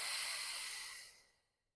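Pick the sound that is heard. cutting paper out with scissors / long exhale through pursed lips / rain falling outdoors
long exhale through pursed lips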